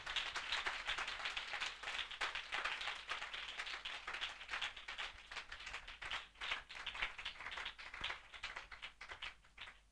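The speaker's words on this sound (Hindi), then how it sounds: "हम जोरदार तालियों से उनका स्वागत करें। जोरदार तालियों से।" A gathering at a religious assembly claps in welcome, rapid uneven hand claps close by, rising and dipping in loose bursts over about ten seconds with no talk.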